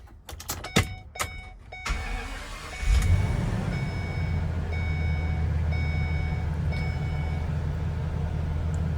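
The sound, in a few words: Ford E-350 box truck with 6.8 liter V10 engine starting up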